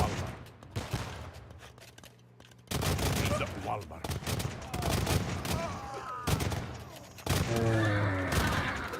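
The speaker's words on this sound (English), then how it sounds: "Cavaliers getting shot down by all this cannon fire" Cannon fire in a real-time strategy game battle, with cannons firing on cavalry: dense bursts of booming shots and clatter keep coming over a steady roar, growing louder after the first few seconds while someone talks over it.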